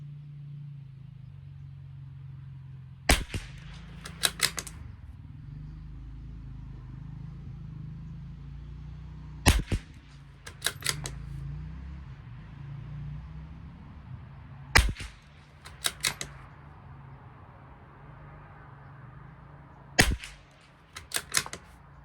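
Rifle shots from a Bergara and a Tikka T1x in long range shooting crack sharply in close groups at irregular intervals, each loud report standing out above steady background noise.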